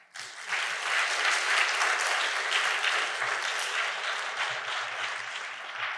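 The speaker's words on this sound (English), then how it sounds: "Give her a hand of applause." A seated audience at a talk bursts into sustained, even applause after a brief quiet start, the dense clapping staying strong before easing slightly toward the end.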